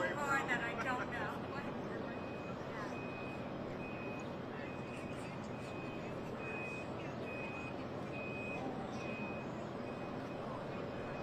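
A large vehicle reverses with a steady series of evenly spaced warning beeps, moderately distant and faint, under a broad wash of traffic noise while people talk nearby.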